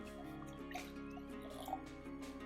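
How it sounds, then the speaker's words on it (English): Warm water poured into a bowl holding yeast and granulated sugar for homemade pizza dough, a soft, faint trickle and drip lasting a couple of seconds over quiet background music. "Pour in your warm water"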